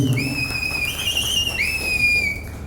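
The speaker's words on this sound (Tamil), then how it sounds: "அருமையா விசில் அடிக்கிறாங்க" Audience members whistle at a Salem district meeting of Tamil Nadu panchayat secretaries, with loud, sustained shrill whistles that overlap and rise over a steady crowd murmur.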